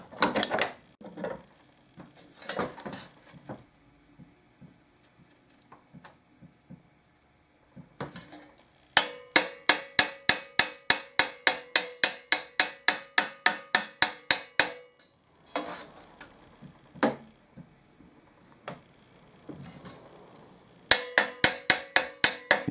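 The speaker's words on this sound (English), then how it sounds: "So I'll start by tapping on this. It'll start to open it up a little bit." A metal mandrel taps against a stuck valve casing on a Bach Stradivarius trumpet, making sharp metallic clinks in rapid bursts of steady strikes with quiet pauses between.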